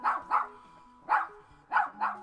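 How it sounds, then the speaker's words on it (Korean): A dog barks in a children's bedtime story, five sharp barks arriving in quick pairs and singles, loud and close, with a faint tonal backing underneath and no talking. "정원사의 장난꾸러기 개가 우르르 쾅쾅 짖으며 쫓아왔고"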